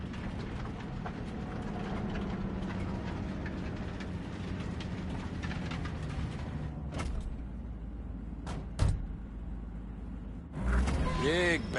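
A train rolls in Cyberpunk 2077 with a steady rumbling clatter and occasional sharp clanks and door-like knocks, while voices talk over it.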